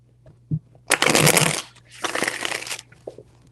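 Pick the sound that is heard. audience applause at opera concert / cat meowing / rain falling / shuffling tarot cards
shuffling tarot cards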